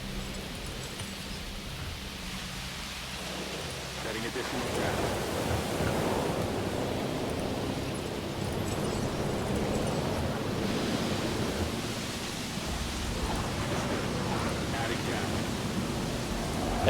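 Rainstorm sweeping over a dinosaur park in a video game: a steady, dense roar of rain and wind fills the whole stretch, with no distinct thunderclap standing out.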